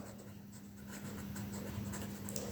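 Chalk or marker writing on a board during a math lesson on sets, a steady soft scratching that continues throughout over a constant low hum, with no talking.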